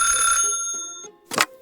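A telephone rings with a bright, harmonic electronic tone for about a second, then stops, followed by a short louder burst of noise near the end.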